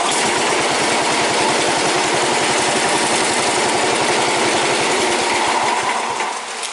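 A tractor engine runs right after a cold start, a loud close rapid chugging idle with fast even pulses that continues steadily and eases slightly at the very end.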